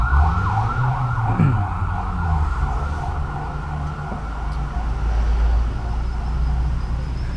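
An ambulance siren wails with a rising and falling tone over road traffic noise in Vientiane, Laos, loud and sustained as the vehicle passes nearby.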